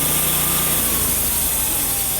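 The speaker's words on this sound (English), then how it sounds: "I like to let the blade run for about 20 seconds to kind of get it warmed up before I start cutting" A WoodMizer LT15 sawmill runs its blade to warm it up before cutting, giving a loud steady engine drone with a high whine and no break in level.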